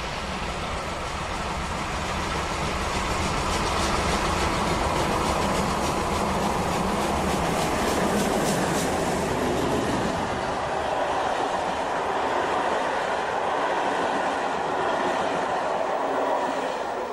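Steam express locomotive 01 1066 runs steadily past, a loud, continuous roar of rolling wagons and rumbling wheels with rhythmic clatter, no voices over it.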